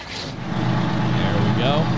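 The 800-horsepower GMC engine of an Oshkosh Defense HEMTT A4 military truck cranks and catches. A deep, throbbing diesel rumble builds quickly and holds steady at close range.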